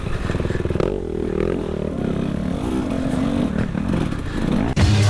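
A motocross dirt bike races at Windy Hill MX, its engine revving hard and shifting pitch up and down close by, with another bike's engine mixed in, loud and continuous without any talk.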